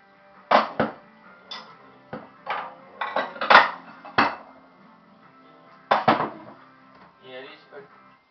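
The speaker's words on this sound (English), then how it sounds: "I gotta put all the dry dishes away." Dry dishes being put away: scattered close clinks and knocks of dishware in irregular bursts separated by quiet pauses.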